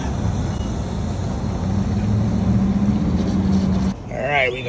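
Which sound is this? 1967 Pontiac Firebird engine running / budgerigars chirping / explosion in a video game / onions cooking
1967 Pontiac Firebird engine running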